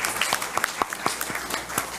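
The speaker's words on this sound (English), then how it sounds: "give her through Mr. Hall, a big round of applause." Scattered clapping from a small group at a school board of education meeting, sparse and irregular individual claps rather than a full ovation, moderately distant with a faint murmur beneath.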